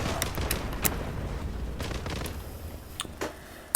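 Gunfire in the online shooter Zula, heard as scattered sharp shots, some far and some closer, over a busy, noisy game background.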